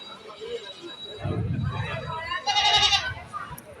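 Goats at a livestock market bleat in wavering cries, one rising loudly near the end, over a low crowd murmur and nearby talking.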